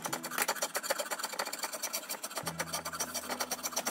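A draw knife shaves wood from a bow stave in quick, repeated rasping strokes. Each stroke scrapes close and clear, and a low steady hum joins partway through.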